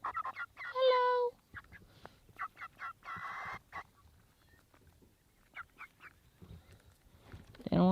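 Backyard chickens squawk and cluck close by, with one loud harmonic call near the start, scattered quieter clucks through the middle and another loud squawk at the end.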